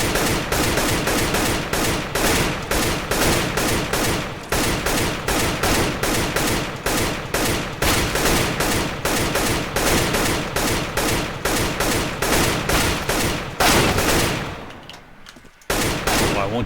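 Rapid gunfire from a video game aim-training map with bots, a dense stream of evenly spaced shots that runs nearly nonstop before cutting off abruptly near the end.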